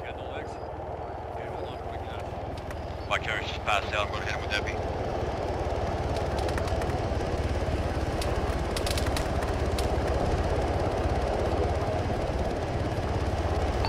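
Military helicopter arriving in the Arma video game, a loud continuous rotor thump and engine drone filling the whole stretch beneath urgent radio chatter and shouting.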